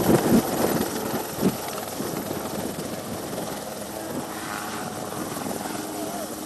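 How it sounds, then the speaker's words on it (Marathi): Rescue helicopter flying over a flooded river near Malegaon during the evacuation of trapped youths, a steady broad rotor and engine roar that stays loud throughout, with a heavier thump near the start. "आता सुद्धा काही तरुणांना घेऊन हेलिकॉप्टर जे आहे ते या भागामध्ये आलेलं आहे"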